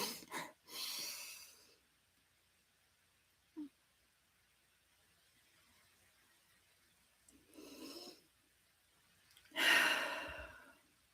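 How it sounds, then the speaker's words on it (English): Slow, controlled breaths during a box breathing exercise, with soft airy inhales and exhales separated by quiet held pauses and a brief faint click in between. "So that's box breathing."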